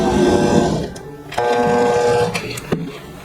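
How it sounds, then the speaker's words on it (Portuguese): An electric mixer whirs steadily through buttery cornmeal cookie dough with harmonic motor hum, then cuts off partway, leaving short clicks and clatter as the beaters stop. "Agora é só desligar a batedeira e ver como a massa ficou."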